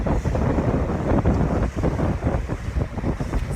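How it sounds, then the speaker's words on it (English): Steady, gusty wind buffets the microphone on a harbour during a women's sailing race, a loud broadband roar with rhythmic surges that fills the whole moment close up, with no talking. "we've got a bit of breeze on here on the harbour"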